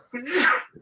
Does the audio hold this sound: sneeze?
yes